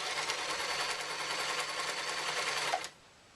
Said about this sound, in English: making sure that I am only sewing through 2 pieces of fabric